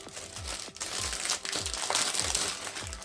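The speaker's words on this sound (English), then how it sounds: "we have a secondary plastic bag" A plastic bag holding Lego pieces crinkles and rustles up close, with repeated handling crunches and a few soft knocks, loud and steady with no talking.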